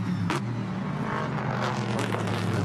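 A Chevrolet GT4 Camaro race car powers along the Mid-Ohio Sports Car Course during a Pirelli World Challenge race, a loud, steady engine roar with a sharp burst near the start.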